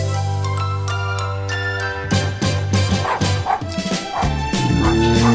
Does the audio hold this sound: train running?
no